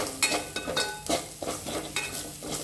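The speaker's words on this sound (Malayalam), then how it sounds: "നന്നായി വറുക്കുക" Coconut, shallots, garlic and curry leaves frying in coconut oil for Malabar sambar, a close sizzle broken by repeated scraping stirs of a spoon in the pan, several strokes in quick uneven rhythm, with no talk.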